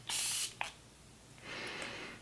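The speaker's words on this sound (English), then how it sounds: "The sprayer on this, it shoots out such a fine mist." Makeup perfecting setting spray from a pump bottle sends out two bursts of fine mist, a sharp close hiss followed after a short pause by a softer, longer spritz.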